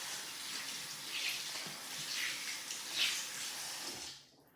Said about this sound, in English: Okay, so I'm gonna fill it up with water